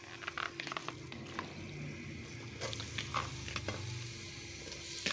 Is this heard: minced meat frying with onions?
yes